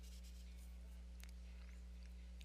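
Pen or pencil scratches lightly on paper while math is written out by hand, a faint soft stroke sound over a steady low electrical hum with no one speaking.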